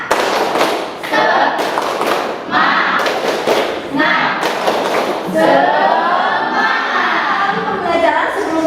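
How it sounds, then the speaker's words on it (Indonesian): A school class claps loudly in quick rhythmic bursts with short gaps between them, then voices chant or speak together toward the end. "Mari kita tepuk semangat."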